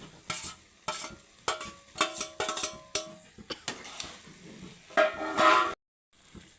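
Paneer goes into a simmering, fried masala gravy in a pan: a run of sharp utensil clanks, scrapes and ringing taps over a soft sizzle, in short bursts, then a brief silence near the end.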